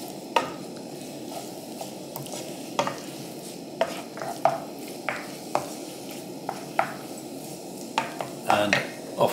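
Eggs and salmon stirred in a pan on a camp stove outdoors, a dozen or so light scraping clinks of utensil on metal over a soft steady sizzle and background hiss.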